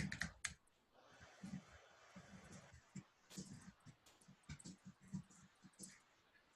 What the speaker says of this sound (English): Why am I typing it all over again, Bert?